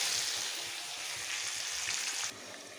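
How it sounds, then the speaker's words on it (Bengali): Potato pieces with turmeric and salt sizzle steadily in hot oil in a pan, a soft continuous hiss that drops slightly near the end, with no talking. "এখন আমি আলুটাকে আগে ভেজে নেব।"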